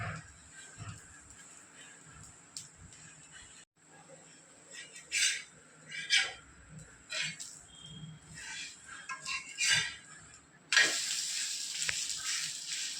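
Bottle gourd and lentil adai batter frying in a little oil on a pan, a steady light sizzle with intermittent crackles and utensil scrapes, growing louder and hissier near the end.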